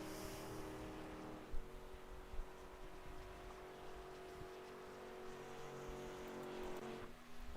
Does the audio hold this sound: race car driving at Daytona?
yes